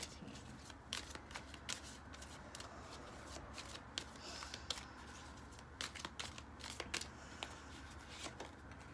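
Tarot cards are shuffled close up, a continuous soft papery riffling with frequent light slaps and flicks against a quiet background.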